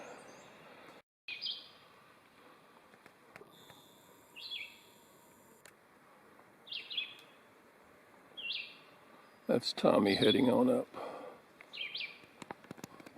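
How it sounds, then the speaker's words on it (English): Several short bird calls and chirps sound at intervals beside Laurel Fork Creek in Big South Fork in April, with a brief spoken phrase and a burst of louder rustling noise partway through. "accompaniment of some nice bird sounds"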